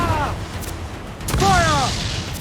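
Ship cannons fire in Assassin's Creed IV Black Flag, deep booms rolling out under shouted voices of the crew, one burst early and a heavier volley midway.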